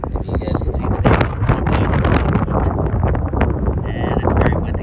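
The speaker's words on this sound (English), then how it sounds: "And it's very windy." Strong wind buffets the microphone in a dense, continuous roar with gusty swells throughout, outdoors on a metal detecting hunt, with no clear voice coming through.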